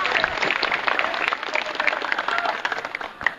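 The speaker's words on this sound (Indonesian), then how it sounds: "tepuk tangan untuk semuanya" An audience at an Islamic religious lecture gives brisk, fairly loud applause, a dense patter of many hands clapping steadily throughout with no speech over it.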